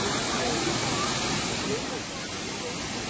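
A waterfall in Coorg pours in a steady, dense broadband rush of falling water, loud and constant with no break, the roar filling the whole span.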